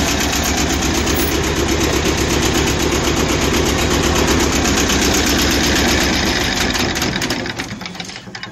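A two-cylinder Yanmar inboard diesel idles aboard a 1978 Hunter 30 sailboat, a loud, close and steady mechanical chugging that carries on without a break and fades near the end as it shuts down.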